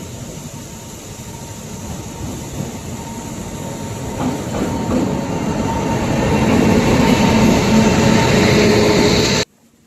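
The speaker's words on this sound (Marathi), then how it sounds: "ट्रेन आता आलेली आहे मस्तपैकी." A train pulls into Ukshi railway station with a waterfall nearby, its steady, loud rolling rumble and rail clatter swelling toward the end before cutting off abruptly.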